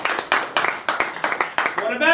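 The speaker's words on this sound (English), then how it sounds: "Clap if you want Fuji to be turned into food." An audience at a live apple-themed comedy show claps to vote for the Fuji apple: a string of quick, evenly spaced claps close by, with a voice speaking briefly at the end.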